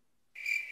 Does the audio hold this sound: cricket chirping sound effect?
yes